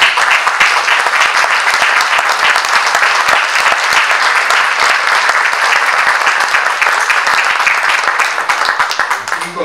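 A large audience at a TV series presentation applauds loudly, a thick, sustained roar of clapping hands heard up close that holds strong before beginning to fade near the end.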